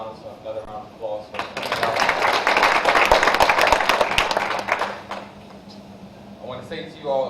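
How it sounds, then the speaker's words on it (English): Applause from a panel audience, a broad wash of clapping that swells for several seconds in the middle, with talk from the stage before and after it. "Let's give McDonald's another round of applause"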